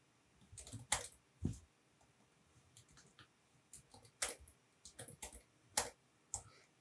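Someone types a name on a computer keyboard, giving sparse, irregular clicks and key taps, some sharper than others, close and fairly quiet with pauses between short bursts.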